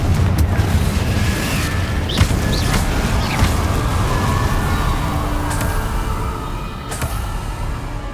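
Magical Confringo fire-blast explosions in Hogwarts Legacy, a dense rumbling roar with several sharp bursts and whooshes layered over continuous combat noise, loud throughout.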